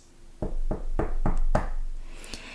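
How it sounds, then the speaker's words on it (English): Knocking at a palace gate in a storybook setting: five loud, evenly spaced knocks sound close up, followed by a sharper final rap, with no voices. "At the pitch of the storm, there came a knock at the palace gate."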